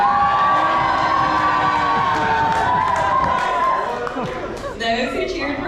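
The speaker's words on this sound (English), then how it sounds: "Now please cheer if you think it's the second one, option B." A live audience cheers loudly for option B, a dense wash of shouts, whoops and clapping that holds strong throughout and eases slightly toward the end.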